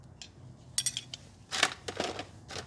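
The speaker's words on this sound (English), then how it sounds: "The hold-down spring tool will get these off no problem." Drum brake hold-down springs come off a Chevrolet Astro or GMC Safari with a hold-down spring tool, giving sparse, close metallic clicks and clinks with brief snaps of spring steel.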